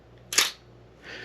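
An old film camera's shutter fires at 1/500 second: one sharp, crisp click up close, then a short quieter mechanical whir as the film advances, alone in a quiet room.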